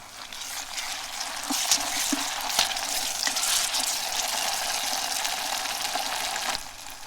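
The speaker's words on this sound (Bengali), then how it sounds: "দিয়ে দিচ্ছি রসুন বাটা, দিয়ে দিচ্ছি আদা বাটা, দিয়ে দিচ্ছি গরম মশলা, এলাচ আর জিরা বাটা দিয়ে আমি সুন্দর করে এখন মশলাটা কষাই নেব।" Garlic, ginger, garam masala, cardamom and cumin paste frying for a beef and bottle gourd curry, a steady close hiss of sizzling with faint scraping stirs and a few soft clicks, no talking.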